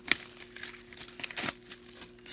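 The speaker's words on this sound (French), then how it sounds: "Je vais vous le déballer" A DVD package is unwrapped by hand, with soft, close crinkling and tearing of plastic wrap in irregular bursts, one sharper crackle early on, all fairly quiet.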